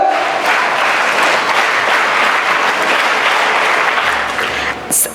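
Loud, sustained applause from an audience at a school investiture ceremony and Toastmasters grand finale in an auditorium, welcoming young speakers; steady clapping fills the whole stretch before tapering slightly near the end.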